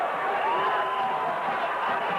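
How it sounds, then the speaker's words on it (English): Cricket crowd cheering and roaring as Shahid Afridi hits a huge six, a steady, dense wash of distant stadium noise holding at an even level throughout. "The crowd are enjoying this."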